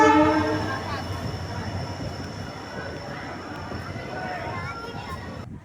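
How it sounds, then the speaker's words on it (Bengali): A Radhikapur–Katihar passenger train pulling into the station sounds a horn blast at the start, then a steady rolling rumble continues with background noise. "ট্রেনও চলে আসছে, রাধিকাপুর কাঠিয়ার প্যাসেঞ্জার ট্রেন।"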